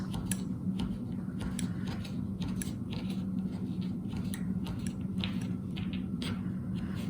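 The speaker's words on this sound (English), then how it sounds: "So we just need to roll it into sausage. And then cut loads of bits." A fondant sausage being cut into many small bits, a rapid series of soft clicking cuts against a mat, close and fairly quiet over a low background hum.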